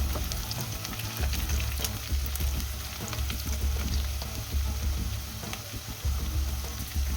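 Long-sliced onions fry in a pan for a mint chicken curry, giving a constant, fairly loud sizzle and crackle with occasional stirring, no talking.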